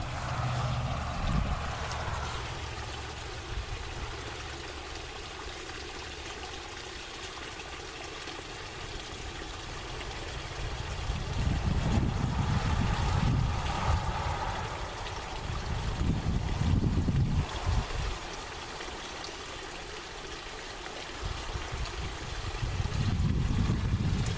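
Water flows and trickles on a farm near a greenhouse, a steady outdoor wash that swells louder in surges, with no talking.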